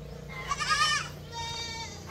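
Goats bleating while waiting to be fed, two drawn-out wavering calls close by, the first louder and the second following after a short gap, over a faint background hum.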